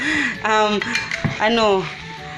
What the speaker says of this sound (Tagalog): I-mix, ihalo-halo ng mabuti para talagang dumikit lahat.